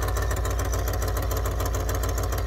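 A faulty engine with a hole plugged by a 2006 nickel and JB Weld runs steadily at idle nearby, a continuous low rumble with rapid rhythmic pulsing and no talk.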